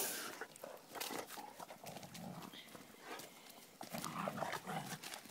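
Dogs play energetically, with scuffling, paw thumps and brief yips and growls in a quick, uneven rhythm, close by and fairly quiet.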